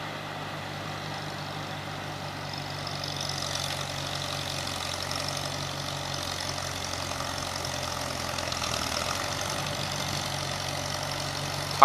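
A Super C tractor's engine runs steadily at a low, even idle as it pulls away slowly during a test-and-tune tractor pull session, with a continuous moderate rumble and no voices.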